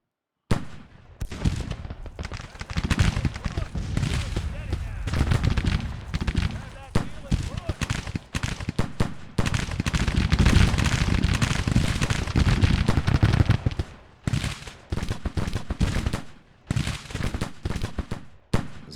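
Continuous American Civil War musket volleys and cannon fire crackle and boom in Grand Tactician, a dense, loud barrage with few pauses across the whole stretch, and a voice talks beneath the din.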